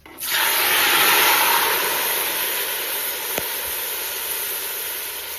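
Meat lands in hot oil in a kazan and a loud hissing sizzle bursts up at once, then settles into a steady, slowly fading fry with one sharp click partway through.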